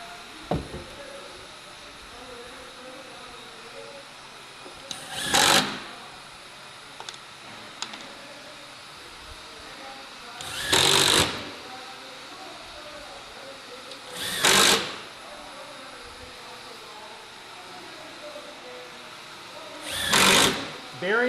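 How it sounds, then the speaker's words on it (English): A power driver sets screws through a piece of wood into a ShopBot CNC spoil board, giving four loud, short whirring bursts separated by quiet pauses with faint handling noise. "Now I can screw it down properly."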